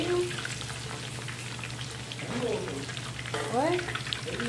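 Garlic and bay leaves fry in oil in a pan with a steady, close crackling sizzle, and a few faint chirping sounds rise briefly over it.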